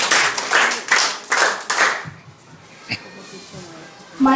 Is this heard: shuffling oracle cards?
no